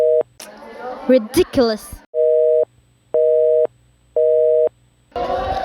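A telephone dial tone sounds in a radio drama as a woman tries to call the police: after a short exclamation from her, three evenly spaced steady tone bursts ring out clearly before speech resumes.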